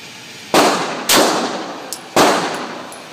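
Three loud gunshots at a shooting range, sharp cracks with ringing tails spaced roughly half a second to a second apart, followed by a faint metallic ping of a round striking a steel target.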